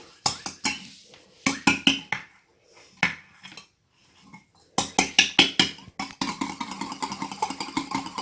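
Eggs beaten by hand in a bowl for a yogurt cake batter, quick bursts of sharp clinking whisk strokes against the bowl, separated by short pauses and ending in a faster, steadier run of beats.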